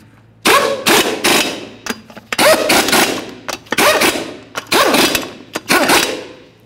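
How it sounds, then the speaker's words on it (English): Impact wrench running 21 mm lug nuts onto a wheel of a 2012-2018 Nissan Altima, loud close bursts of rattling hammering, about five bursts with short pauses between, no talk. "Start on all five of your 21 millimeter lug nuts, we'll bottom them out and get the wheel back on the ground."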